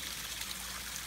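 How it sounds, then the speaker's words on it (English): A small waterfall beside a hiking path on the Appalachian Trail gives off a steady, soft hiss of splashing and trickling water, faint and continuous with no voices. "I'm gonna sit down here on this bench and look at that waterfall for about 15 seconds."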